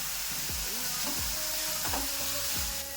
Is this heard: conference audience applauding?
no